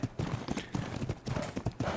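Horse hooves clip-clop in a steady, repeated rhythm in the survival game Ark: Survival Evolved, with several moderately loud, close footfalls and no speech over them.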